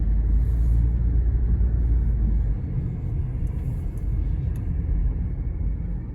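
A car's engine rumbles low and steady from inside the cabin while it pulls into a parking spot near the Jablines nautical base, easing off partway through before the sound cuts out at the end.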